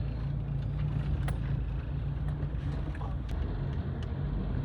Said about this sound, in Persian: این ماشیناشون اوه چقدر زیادن